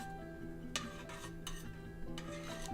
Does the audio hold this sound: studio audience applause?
no